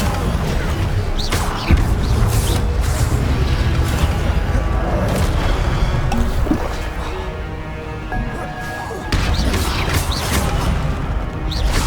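The Incendio fire spell goes off in Hogwarts Legacy, making loud crashing bursts and a sustained fiery roar. A few sharp impacts punctuate the noise, and a voice is heard over it.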